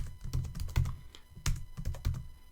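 Fingers type a coupon code on a computer keyboard, a quick irregular run of close, crisp key clicks with short pauses between bursts and no talking.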